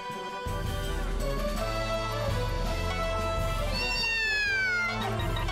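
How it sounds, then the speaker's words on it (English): A cat meows in a long drawn-out, rising and falling call, tonal and fairly loud, with a steady low hum underneath. "Meow."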